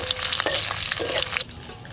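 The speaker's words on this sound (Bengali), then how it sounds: "ধনে পাতা বাটার জন্য রসুন আর শুকনো লঙ্কা ভাজা।" Garlic and dried red chillies fry in hot oil with a steady close sizzle and crackle, brief stirring scrapes cutting in, the hiss thinning and quieting toward the end.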